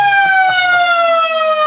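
A loud, steady football ground siren wailing at a country league match, a sustained harmonic tone that slides slightly downward in pitch throughout, heard alone without voices.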